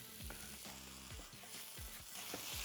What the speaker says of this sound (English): Just cook the mushrooms through the milk